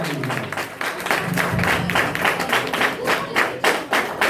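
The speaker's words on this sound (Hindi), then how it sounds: "आइए जोरदार ताली बजाइए।" Church congregation clapping loudly at a worship service, a strong rhythmic, fairly synchronized clapping with some thumps, close and continuous throughout.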